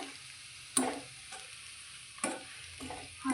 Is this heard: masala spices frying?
yes